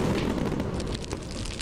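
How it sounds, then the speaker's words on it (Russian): Firecrackers bursting in the video game Suicide Guy make a loud, rumbling blast that fades into a crackling, roaring fire sound, heavy and continuous, with no voices. "Сейчас мы эти петардочки подожжем."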